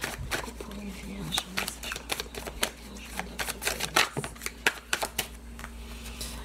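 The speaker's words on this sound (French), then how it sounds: "Je vais d'abord faire la coupe pour les Vierges." A deck of tarot cards being cut and shuffled, giving a run of quick, crisp card snaps and riffles close up, steady and light, with someone speaking French over the card handling.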